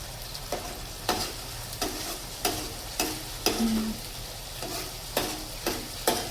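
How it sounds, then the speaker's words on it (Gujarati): Masala for palak paneer roasts in a hot pan, a soft steady sizzle broken by regular sharp scrapes of a spoon stirring, about one every second, close and clear. "તો હવે આપણે એને થોડીક વાર શેકાવા દઈશું"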